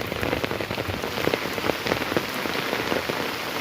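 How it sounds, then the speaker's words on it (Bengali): Rain patters continuously on a surface nearby, a steady, even wash of drops with a faint crackle, and no voices over it. "কারো বৃষ্টি ভালো লাগে না কারো বৃষ্টি ভালো লাগে"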